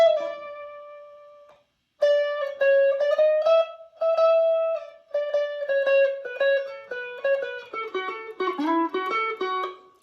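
A single guitar plays the lead lick from a solo (5/10/1978), with bright single notes and slides in a quick, bouncy phrase after one held opening note and a short pause, clear and alone.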